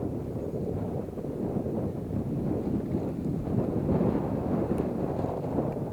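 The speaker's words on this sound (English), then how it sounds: "Pretty windy conditions." Steady wind gusts buffet the microphone outdoors on a disc golf course during a match-play event, a continuous low rumble that swells slightly midway, with no voices.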